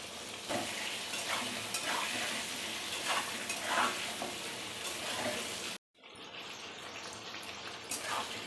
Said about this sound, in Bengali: সামান্য একটু নুন দিয়ে আলুটাকে ভালো করে ভেজে নেব।